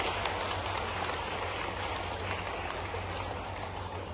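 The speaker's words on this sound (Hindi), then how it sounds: "इसलिए जोरदार तालियां बजाएं।" A large audience at a college event in Jabalpur applauds in a dense, steady wash of clapping that holds evenly from start to finish, sounding somewhat distant, with no voices over it.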